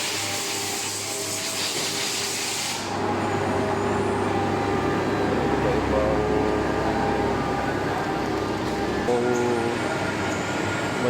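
Machinery in an airgun barrel factory where CNC machines cut barrels, giving a loud continuous industrial drone and hum that shifts partway through, with no clear speech.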